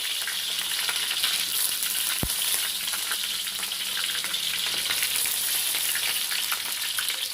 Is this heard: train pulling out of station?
no